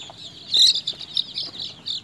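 Soft clucks and chirpy calls from a young Indian country chicken come in short bursts, fairly close, on a farm with a quiet background and no talking.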